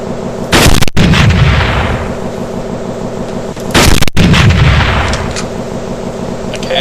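Turret gunfire in the video game Teleglitch: two heavy, loud blasts a few seconds apart, each trailing off into a long rumbling decay, with no talk.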